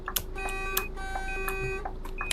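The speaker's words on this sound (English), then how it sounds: "you're going to beep the horn twice" A bus horn in a driving simulator game sounds as a steady electronic tone lasting the whole short stretch, with faint clicks layered over it and no speech.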